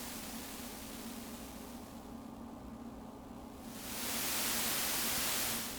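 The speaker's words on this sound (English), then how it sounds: "Yeah, that's white noise." Broadband hiss from an HNS-100 harsh noise unit, a steady wash that dips in its upper range for a moment, then swells louder and brighter into full white noise.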